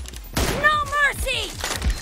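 Sniper rifle shots from an M24 in a mobile shooter game, a few sharp cracks in quick succession mixed with game sound effects and a voice talking over them.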